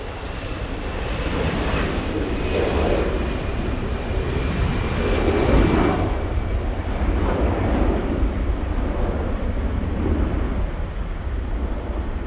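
Lufthansa airliner on final approach into LAX, a continuous distant jet engine roar with a faint high whine that swells slightly and fades, steady throughout with no talk.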